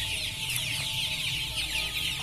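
Several free-range kampung chickens cluck and chatter steadily close by, a busy flock murmuring without pause while being fed ground corn.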